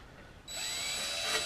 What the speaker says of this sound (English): Definitely having to get the reamer through them a little bit.